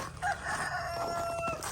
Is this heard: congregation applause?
no